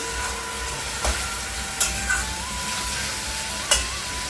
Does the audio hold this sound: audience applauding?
no